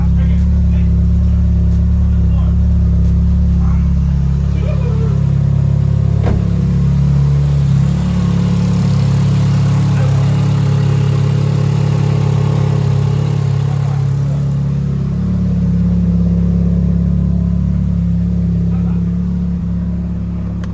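A Mitsubishi Evo 9 engine, newly fitted with a Haltech Elite 2500 and running on a base map, idles steadily and loudly for the whole stretch with a deep, constant rumble.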